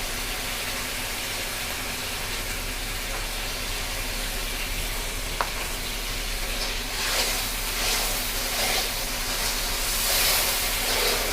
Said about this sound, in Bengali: মশলাটা ভালোভাবে কষাবো।